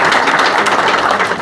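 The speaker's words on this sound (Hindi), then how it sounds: "जोरदार ताली" Audience at an SC/ST federation welcome event gives loud, dense applause, a steady wash of many hands clapping close by with no pause.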